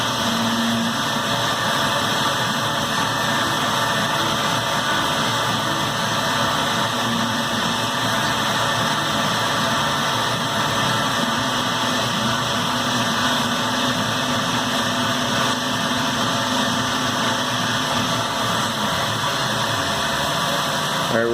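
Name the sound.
Tormach PCNC 770 CNC mill machining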